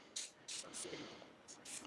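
Short hissing bursts of silicone lubricant sprayed from an aerosol can onto a BMW E46 lower control arm and bushing, several quick spurts in a row, fairly faint and interleaved with a voice speaking.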